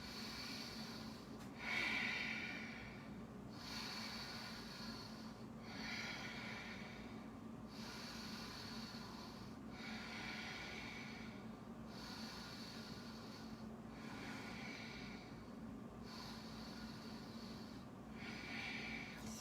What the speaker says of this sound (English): begin to dramatize the breath, really exaggerating those inhales and exhales